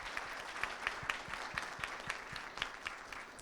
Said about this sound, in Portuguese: a salva de palmas pela contribuição